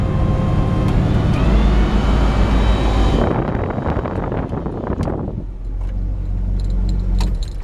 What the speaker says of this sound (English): You can hear the AC kick on.